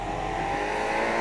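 A Range Rover Sport SV Edition 2 engine revs hard and steadily, with a throaty, aggressive roar and a strong whine on top, heard from inside the car with no talking.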